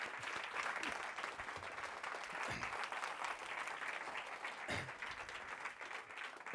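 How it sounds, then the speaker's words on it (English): Steady applause from a talk audience greeting speaker Mark Wynn, a dense, even wash of many hands clapping at a moderate distance, sustained throughout without a break. "round of applause for Mark Wynn"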